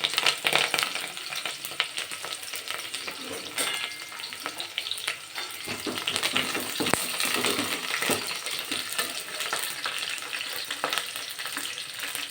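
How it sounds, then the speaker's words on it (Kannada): Sliced onion and curry leaves frying in hot oil in a pan for a fresh pigeon pea sambar, a loud continuous crackling sizzle with occasional spoon scrapes and clinks, close up and without talk. "ಈರುಳ್ಳಿ ಕರಿಬೇವು ಕೂಡ ಹಾಕ್ತೀನಿ"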